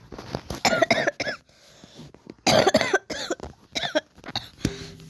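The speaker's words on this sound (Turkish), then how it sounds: "ben öksürüyorum diye" Repeated harsh coughs in irregular bursts, close and loud, separated by short pauses and a little throat clearing.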